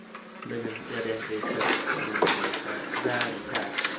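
A dog whimpers and whines close by in a series of short, high, tonal cries that rise and fall over a few seconds.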